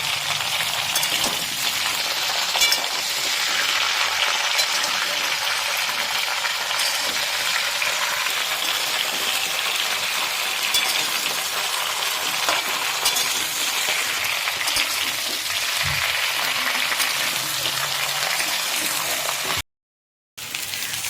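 Mixed winter vegetables with eggplant frying together in a pan, a loud dense sizzle that runs steadily for the whole stretch, briefly cutting out near the end, with no one speaking.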